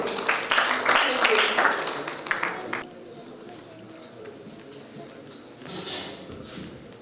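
An audience at an open mic event at the Singrauli Lit Fest 2025 breaks into dense, loud applause for nearly three seconds, then it fades to a quiet room murmur with a brief swell near the end.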